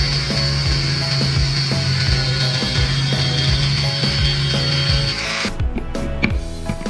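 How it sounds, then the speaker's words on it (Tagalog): A power saw cuts scrap metal for a homemade bus bar in a boat electrical install. A steady whining grind carries on for about five seconds, then stops abruptly, leaving scattered clanks and rattles. "Using a scrap metal, I cut it, made some shorter bolts"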